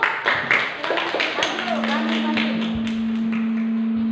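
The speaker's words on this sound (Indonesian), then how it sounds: "Tepuk tangan dulu." Classroom applause: a short round of close hand claps from a group of students that fades within about two seconds, followed by a steady tone and quiet room sound.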